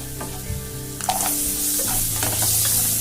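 Peas sizzle loudly in oil in a kadhai on a low flame, with scraping and clattering strokes of a spoon stirring them, close and continuous with no talk.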